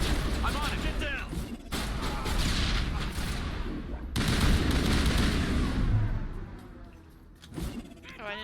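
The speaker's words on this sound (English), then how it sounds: "Oh, I didn't mean to throw that grenade, but that happened." Grenade blast in the Mass Effect sci-fi shooter, a loud broadband burst amid ongoing gunfire and combat noise, with a voice talking over the chaotic mix.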